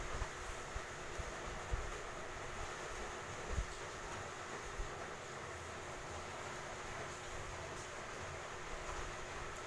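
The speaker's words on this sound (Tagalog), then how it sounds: "Naririnig nyo ba yung bagyo sa labas?" A storm rages outside a house, with strong wind and heavy rain making a steady, dense roar that barely changes across the whole stretch, and no voices are heard.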